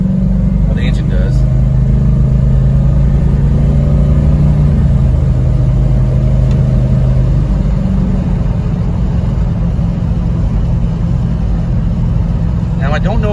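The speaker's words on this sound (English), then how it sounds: "This converter climbs in RPM pretty quick." A car fitted with a TH400 automatic transmission and high-stall torque converter revs loud and close, engine note rising quickly and holding, then easing under steady road and cabin noise.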